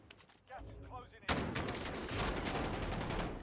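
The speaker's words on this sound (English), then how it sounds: "Whatever shotgun he was using then, holy shit." Dense, rapid shotgun blasts in a first-person shooter game, loud and continuous after a sudden start, with a person's voice briefly heard just before the shooting begins.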